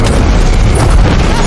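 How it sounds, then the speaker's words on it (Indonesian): A loud, booming landmine blast from a film, set at the edge of a ravine, fills the short stretch as a dense, continuous roar with no quiet gaps. "Dengan meledaknya ranjau, Drasa pun terkena serpihan ledakan ranjau."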